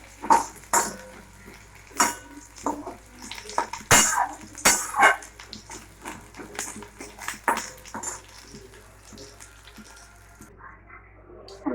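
Fried pieces get lifted out of a pan with a utensil. Sharp metallic clinks and scrapes come in irregular bursts, loud and close, then thin out toward a quieter finish.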